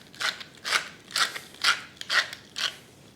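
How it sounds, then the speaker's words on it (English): A pepper mill grinds whole black peppercorns in six even, rhythmic bursts of gritty crunching, close and fairly quiet, with no talking. "Grinds of black pepper."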